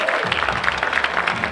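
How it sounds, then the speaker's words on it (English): Theatre audience applauding a cast member in a short burst of steady, dense clapping, with a voice briefly heard at the start. "would you put your hands together and round of applause for Michaela O'Brien as Stella."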